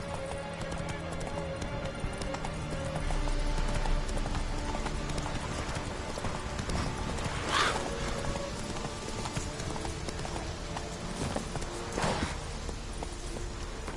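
Roach the horse clip-clops steadily across terrain in The Witcher 3, a continuous rhythmic run of hooves over ambient game music, with a few louder thuds and a brief whinny-like accent.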